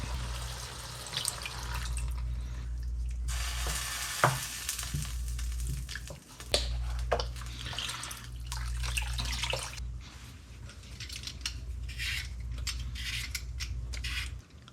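Stock pours into a soup pot holding potatoes, a soft, sustained splashing and trickling with occasional clinks and knocks, set against a steady low kitchen hum.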